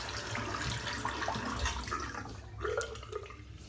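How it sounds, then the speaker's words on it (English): Water draining out of a bathroom sink after a shave, a continuous close gurgling and trickling wash with small splashes and no talking. "Just going to empty the sink out."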